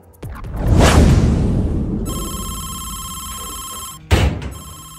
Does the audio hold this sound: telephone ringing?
yes